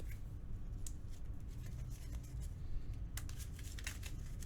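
Game cards from the Marvel Champions card game being shuffled back into a deck, soft papery riffling and tapping with a louder burst of flicks near the end, close and quiet.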